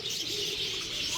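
Birds at an indoor mall animal exhibit gather close to eat a snack from people's hands, giving a steady, fairly loud stretch of chirping and cooing with no speech over it.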